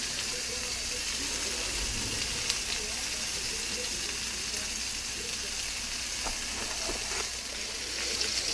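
Three bacon-wrapped filet mignon steaks sizzle and crackle steadily in a hot frying pan, a continuous bright hiss with small pops and faint talk in the background.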